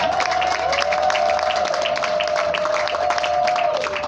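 Guests at a civil wedding in Kinshasa applaud the bride with steady, dense clapping from a crowd filling the room, while a faint sustained tone runs beneath.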